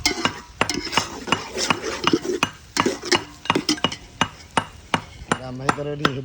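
Ingredients being pounded and crushed in a home kitchen while chicken is cooked, a rapid series of sharp metallic clinks and thuds in an uneven rhythm, close and loud.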